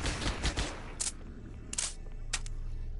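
Enemy gunfire in the video game Halo: Combat Evolved comes as short rapid bursts of shots, some close and sharp, with brief gaps between volleys.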